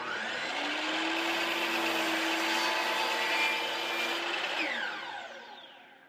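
Power saw blade crosscutting wood for a serving tray, a loud steady whine with a humming tone that runs for about five seconds, then winds down and fades as the blade slows.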